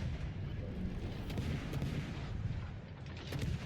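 Warship guns fire in a naval battle video game, heard as a steady rumble of distant artillery blasts and gunfire layered into a dense, continuous din with no clear speech.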